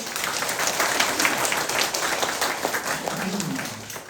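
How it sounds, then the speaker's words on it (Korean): A Catholic congregation at a Saturday prayer meeting in a parish church breaks into applause, a broad, even wash of many clapping hands that carries on steadily throughout. "우리 박수 한번 쳐야 되겠죠?"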